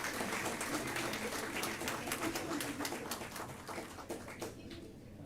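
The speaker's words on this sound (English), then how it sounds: "Students, may we have a huge round of applause for our chief guest." Applause for the chief guest at a college convocation ceremony, a dense, steady crowd clapping that fills the hall and slowly thins toward the end.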